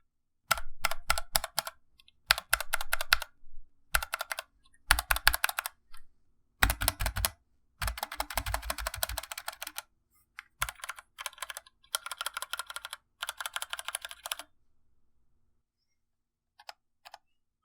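Typing on a DK61 budget mechanical keyboard, close and fairly loud: rapid bursts of clacking keystrokes separated by short pauses, continuing for most of the stretch before tapering to a few isolated clicks.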